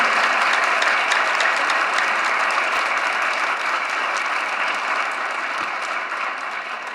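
Schoolchildren applauding at a public gathering in Balochistan, a dense, sustained wash of clapping from a large crowd that runs steadily throughout and fades only slightly toward the end.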